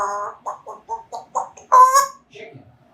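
Chickens cluck in a quick run of short, moderately close calls, followed by a louder squawk and then softer clucks, with a voice heard briefly.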